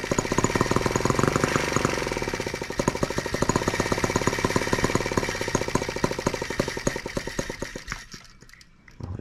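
A brand new TR1 tractor engine runs hard under raised throttle, a loud rapid chugging knock with steady rhythm for about eight seconds before the revs drop away near the end.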